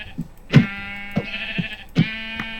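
Sheep in the video game Minecraft bleat in short, clear calls, three distinct bleats spaced about a second or more apart, loud and close over a quiet background.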